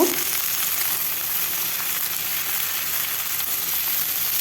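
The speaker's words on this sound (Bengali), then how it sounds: "ঝিঙেটা দিয়ে আবারও ভালোভাবে নেড়ে নেব।" Loud, steady sizzling of ridge gourd stir-frying in a hot pan, continuous and close, with no voices.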